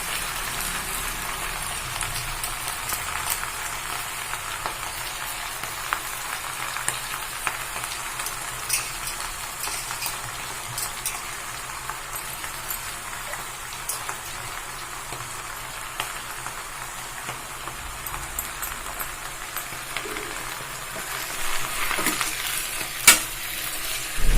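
Spinach cooks uncovered in an open pan, giving a steady close sizzle and crackle with repeated scraping stir strokes throughout, and the clatter grows slightly louder near the end, with no talking.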